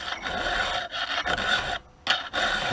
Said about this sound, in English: I'm just using my vise to hold things together as I file.